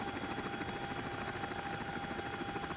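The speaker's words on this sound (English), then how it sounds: "that will allow us to control the helicopter while we are taxiing on the ground" Steady rotor and turbine roar of a CH-47D Chinook tandem-rotor helicopter in the X-Plane 12 flight simulator, taxiing on the ground; a continuous loud drone with a faint rhythmic blade pulse and a thin high whine, no voices.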